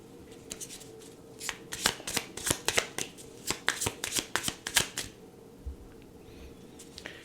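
Tarot cards being shuffled up close, a rapid series of crisp riffling bursts in an irregular rhythm, then quiet.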